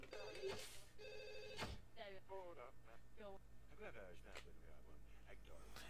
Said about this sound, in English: you have to answer the phone.